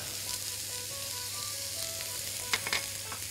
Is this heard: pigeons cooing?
no